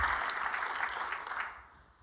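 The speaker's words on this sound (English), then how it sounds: "let's give a round of applause to Commissioner Silver" Applause from an event audience at a commissioner's welcome, a dense continuous patter that holds steady and then thins out and fades toward the end.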